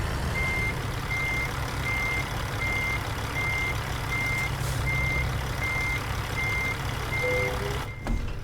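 Truck with a tanker trailer reversing in American Truck Simulator, a regular beep-beep of the reversing alarm over a steady low diesel rumble, ending with a short air-brake hiss.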